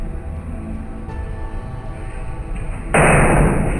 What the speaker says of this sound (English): a series of super loud bangs on the wall are heard, the mirror shakes violently, and then a sculpture falls down